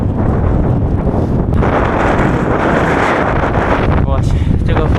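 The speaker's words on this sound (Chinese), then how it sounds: "这个大风啊，呼呼的" Very strong wind roaring and buffeting a microphone while cycling in Xinjiang, a loud continuous rumbling gust that fills the whole stretch, with faint voices buried underneath.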